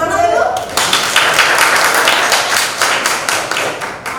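A classroom of students clapping hands together, a brisk, fairly loud burst of many claps right after a teacher's voice in the opening moment, continuing steadily to the end.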